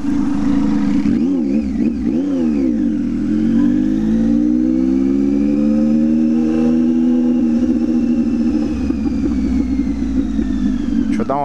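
A motorcycle threads through tight lanes of city traffic, its engine rising and falling in revs with shifting pitch, loud and close over a continuous roar of surrounding vehicles and wind.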